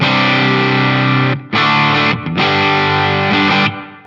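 Electric guitar driven through a Fulltone GT-500 overdrive with its volume knob all the way up, loud and thick with distortion, playing sustained chords with two brief gaps in the middle before ringing on and fading out.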